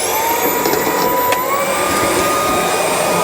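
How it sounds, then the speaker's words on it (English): A Milwaukee M18 Fuel compact cordless vacuum cleaner picking up leaves runs steadily at close range, a constant high whine and airy hiss with no pauses. "I'm trying to vacuum up leaves. It's super quiet though."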